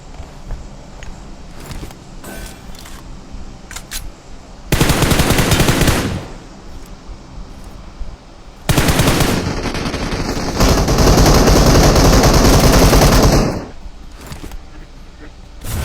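Automatic weapon fire in PUBG Mobile, loud sustained bursts of rapid shots in several long stretches, separated by quieter gaps with footsteps and players talking over voice chat.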